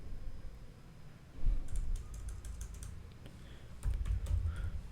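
Quick bursts of keystrokes on a computer keyboard, typing a VLOOKUP formula into an Excel spreadsheet, close and fairly quiet over a low background hum.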